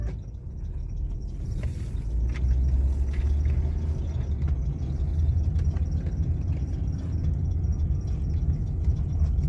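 A car on a Sunday morning drive gives a steady low road rumble and engine drone from inside the cabin, continuous and even with no distinct events.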